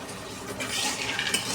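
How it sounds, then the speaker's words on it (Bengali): Peanuts are fried in a pan at home while being stirred, giving a steady, close scraping and rattling that swells slightly midway, with no voices. "সন্ধ্যাবেলা কয়েকটা বাদাম ভাজতে বসেছি, দেখুন"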